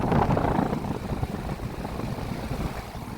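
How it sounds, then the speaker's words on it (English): A 2021 American Standard Silver Series 3.5 ton central air conditioner with an Alliance scroll compressor runs with a steady, close, broadband whooshing drone and fan rumble, slightly louder at the start, with no voices. "2021 American Standard Silver Series running. Has an Alliance scroll compressor."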